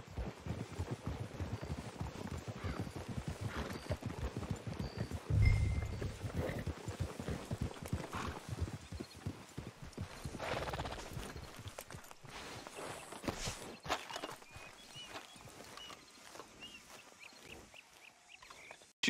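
Horses clip-clopping in the video game Red Dead Redemption 2, a run of hoofbeats and footsteps that is busy early on and gets sparser and fainter later, with no clear talking.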